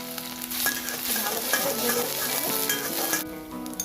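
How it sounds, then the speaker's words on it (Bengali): Chopped ginger and garlic hit hot oil in a preheated Chinese wok, a close, lively sizzle and crackle with scraping stir strokes over a few seconds, tailing off slightly at the end. "এবার দিয়ে দিচ্ছি 1 চামচ আদা কুচি, 1 চামচ রসুন কুচি।"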